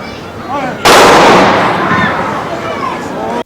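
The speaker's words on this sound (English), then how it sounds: "a 3-volley salute with rifles" A rifle salute at a Memorial Day parade honoring deceased veterans rings out as one sharp, loud outdoor volley that booms and slowly decays into a noisy open-air background.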